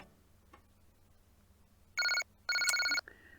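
Electronic telephone ringing in the Japanese video game Maria Kimitachi ga Umareta Wake, two loud trilling bursts with a short gap, coming after a quiet stretch.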